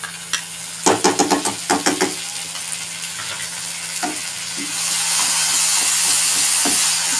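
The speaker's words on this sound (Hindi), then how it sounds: "इसको हल्का सा फ्राई करेंगे।" Onions, leftover masala and ginger garlic paste frying in a pan, with a run of scraping stirs followed by a steady, close sizzle that grows fuller toward the end.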